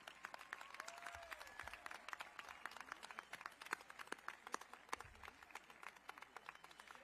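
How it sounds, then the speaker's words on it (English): An audience applauds award winners at a high school graduation convocation, a steady spread of many hands clapping at moderate distance, with a few louder nearby claps and a faint whistle near the start. "Let's have a round of applause for all our award winners tonight."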